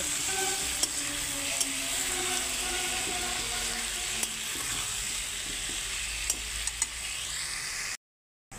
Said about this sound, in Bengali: এখন আমি আলুটা ভেজে নিব।